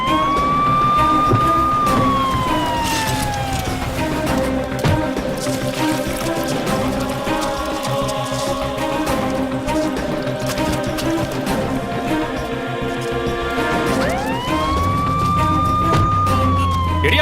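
A wailing emergency siren rises and falls loudly near the start and again near the end, with a continuous tonal drone in between, set in a Tamil crime thriller film scene involving an ambulance.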